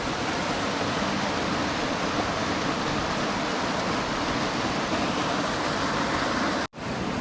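A natural waterfall in Utah roars as a constant broadband rush of falling water, loud and unbroken, with a brief dropout near the end.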